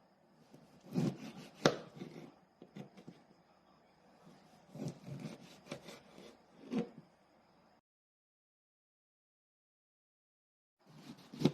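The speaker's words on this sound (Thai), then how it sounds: "หั่นมะกรูด หลีกเลี่ยงแกนกลาง เพื่อไม่ให้โดนเมล็ด" A knife slices through kaffir lime on a cutting board in a series of irregular cuts and taps, close and fairly quiet, followed by silence and a few more cuts.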